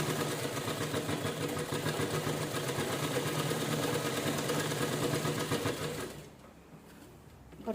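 A sewing machine stitches a cloth bag in a steady, close mechanical run for about six seconds, then drops to a quieter hum and stops.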